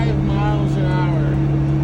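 A tired 1981 Ford Courier pickup's engine strains up a steep hill on the road, a steady loud drone with a constant low hum throughout.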